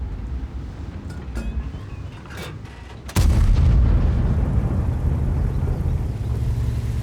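A tank gun fires once in World of Tanks: a single sharp, loud blast about three seconds in, followed by a heavy sustained rumble, with a low engine drone and faint distant shots beforehand.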